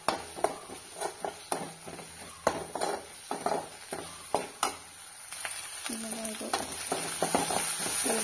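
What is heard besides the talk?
onions frying with ginger garlic paste in a pan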